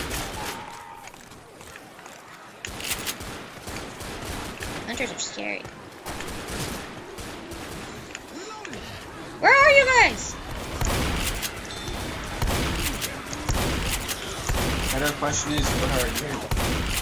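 Gunfire in the zombie shooter Left 4 Dead, with repeated shots and rapid bursts scattered throughout and one louder cluster midway, while players talk over the action.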